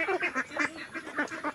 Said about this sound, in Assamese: দেখিব পাৰিছে এইখিনি হাঁহখিনি মোৰ।